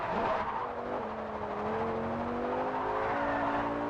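A car engine accelerates in the racing game Forza Horizon 2, a steady loud whine whose pitch climbs smoothly through the gears over a constant rushing road and wind noise.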